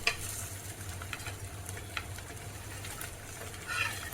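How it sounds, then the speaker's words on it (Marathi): Kayloli flatbread roasts crisp in a hot pan, giving a steady soft sizzle with a low hum and faint scraping ticks, heard alone without talk. "आपण एकदम खरपूस भाजून घेणार आहे"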